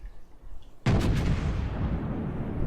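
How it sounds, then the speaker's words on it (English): The Bismarck battleship's guns fire a single heavy salvo in the naval game World of Warships, a sudden close boom followed by a long, loud rumbling tail. "The Bismarck shot a bit too soon"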